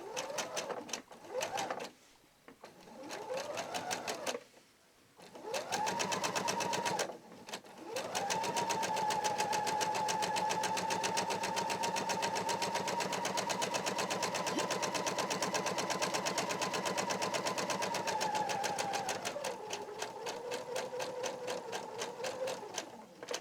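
Sewing machine hemming a satin parasol cover with a hemming foot, stitching in short bursts at first, then one long steady whirring run of rapid needle strokes before slowing near the end.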